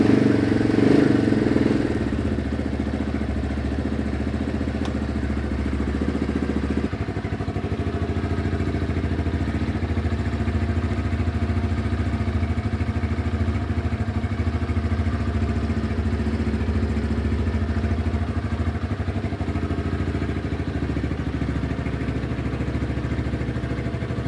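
An Apollo RFZ 250 Thunder motorcycle engine, with a poorly tuned carburetor, idles close by. It gives a steady, rough, loping drone throughout, with a brief rev at the start before it settles.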